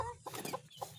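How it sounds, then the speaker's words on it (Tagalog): Newly hatched chicks beside a brooding hen, heard as a few short clucking and peeping calls close by, rising in small bursts over a low steady background. "Ayan po ang ating mga bagong sisiw."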